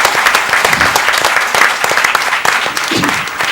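An audience at a regional quiz final applauding the runner-up, dense sustained clapping from a crowd in a hall, loud and close throughout with a faint voice near the end.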